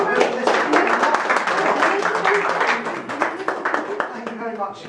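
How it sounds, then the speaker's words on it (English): Audience clapping at a Headingley LitFest 2017 literary talk, a dense patter of applause that stays steady for several seconds with voices talking over it. "Big round of applause for Carol."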